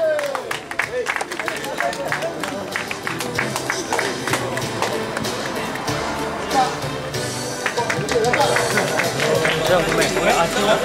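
A concert audience at a town music festival applauds, a dense, lively wash of many clapping hands and crowd murmur that swells again near the end, with voices talking over it.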